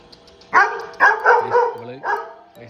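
A dog barks sharply four times in quick, uneven succession, loud and close, with short yelping whines between the barks.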